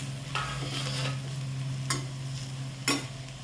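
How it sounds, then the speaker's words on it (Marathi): Masala bitter gourd sautéing in a pan, with a steady low sizzle and a few sharp scraping strokes of a spoon stirring, close and alone without talk. "छान परतून घ्यायचं मस्त एकजीव करून"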